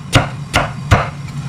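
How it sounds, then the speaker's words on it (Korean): A big heavy knife chops a hard, fibrous sweet potato into quarters on a board, three loud, evenly spaced thuds close up, with no talk. "고구마를 4등분 해줍니다."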